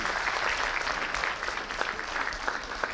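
An audience at an arts launch evening in Mauritania gives sustained, even applause for an honoured woman guest. Dense clapping of moderate loudness carries on throughout.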